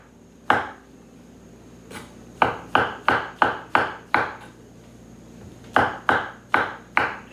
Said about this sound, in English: I'm gonna cut the mushrooms up now. I mean, just gonna cut them in thin slices.